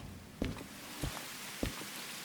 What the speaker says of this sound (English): The rain is back.